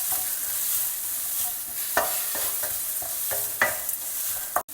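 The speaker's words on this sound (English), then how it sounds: "Here I have 1 cup of fresh grated coconut. Stir fry that also." Fresh grated coconut is stir-fried in a pan, with a steady sizzle broken by repeated scraping strokes of a spatula in an uneven rhythm, close and moderately loud, with no speech.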